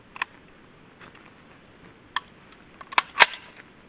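A 7.62x39 Chinese surplus rifle fires at a cast aluminum target, heard as a few sharp, thin cracks and clicks spread across a quiet background, the loudest arriving near the end.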